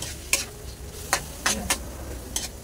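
Sliced squid sizzles steadily in a home pan while a utensil scrapes and stirs in a few sharp, separate strokes, close by, with no talking.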